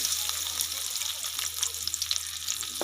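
Onions frying in hot desi ghee for a cauliflower handi, a bright continuous sizzle and crackle close by over a low steady hum.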